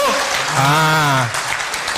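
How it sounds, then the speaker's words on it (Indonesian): Audience applause during a health lecture, a crowd clapping under a loud, drawn-out voice that rises over it in the middle before the clapping carries on alone. "Tepuk tangan untuk kita semuanya."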